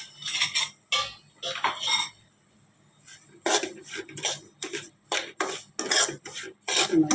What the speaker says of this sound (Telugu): దాంట్లోనే ఈ రవ్వ అనేది కొంచెం వేపుకుందామండి.